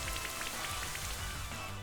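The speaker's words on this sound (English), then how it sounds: "Uses rain dance." Steady, even rain from the Rain Dance move in Pokemon Shield hisses throughout, soft and continuous with faint droplet patter, no voice over it.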